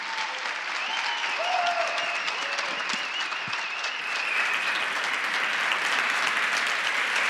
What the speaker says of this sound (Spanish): la mejor forma de conocer a Arcadi es que le deis un fortísimo aplauso